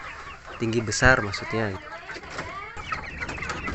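Young Ayam Gaok chickens, about two months old, cluck and call in short bursts close by, while someone talks over them.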